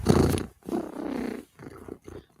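A human voice imitates a cat's purr in three rough, growling bursts with short gaps between them, close and fairly loud.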